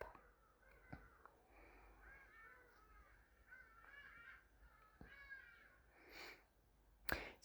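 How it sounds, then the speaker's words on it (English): Birds calling outdoors in the early morning, scattered chirps and caws at varying distances, fairly faint, with a couple of sharper bursts near the end. "so you might be hearing a lot of birds in the background"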